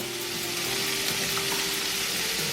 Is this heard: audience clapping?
no